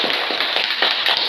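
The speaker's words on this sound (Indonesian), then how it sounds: "Jadi kita tepuk tangan dulu untuk kelompok 2" A classroom group claps for a presenting student group, a short burst of dense, rapid hand claps close by.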